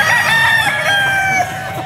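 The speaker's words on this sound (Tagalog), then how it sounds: "Mga idol, dito tayo sa manok ng bossing." A rooster crows repeatedly among a large flock of chickens on a Filipino poultry farm, the calls loud and close over steady background clucking.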